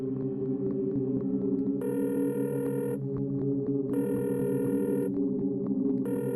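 A telephone rings out over a speakerphone after a number is redialed: evenly spaced ring bursts of about a second each, separated by short gaps, over a constant low hum, with no voices.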